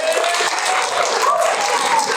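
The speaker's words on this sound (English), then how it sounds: "One more round of applause for our round 1 poets" Audience applause at a high school poetry slam for the first-round poets, a dense, steady wash of clapping filling the room at an even level for the whole stretch, with faint voices mixed in.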